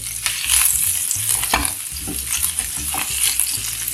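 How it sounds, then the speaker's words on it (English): A fork or spoon smashes cauliflower in a creamy sauce in a hot pan, with steady sizzling and repeated soft, close scraping and stirring strokes, no talk. "put the cauliflower in and we'll smash them. You can use a fork or a spoon."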